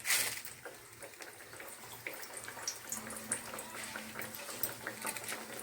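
Konaseema-style palm fruit garelu drop into hot frying oil, which bubbles and crackles faintly and continuously with small irregular pops.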